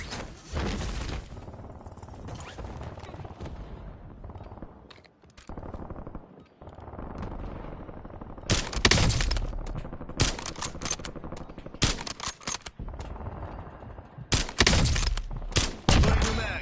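Rapid bursts of automatic gunfire and single shots crack out in a Call of Duty match, clustered in loud volleys separated by quieter gaps.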